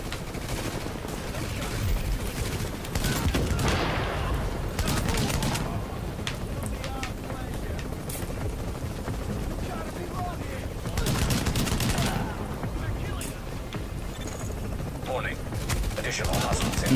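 A rapid-firing AA-12 automatic shotgun in The Division, with long sustained bursts of loud close shots over battle noise and only brief gaps, while a player talks over the firing.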